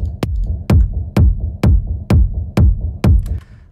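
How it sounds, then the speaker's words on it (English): A techno rumble bass made in Ableton, with a deep low rumble pumping under a steady kick drum hitting about every half second, sidechained so the bass swells between hits, close and loud. "with the low rumble sounds like this"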